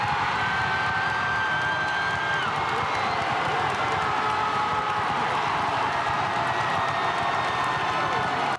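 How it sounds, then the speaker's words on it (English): A large crowd roars with continuous cheering, applause and whoops at the reveal of Robert Downey Jr as Victor Von Doom, steady and loud throughout, with no speech over it. "Now, who is the actor who made such a ruckus from this crowd?"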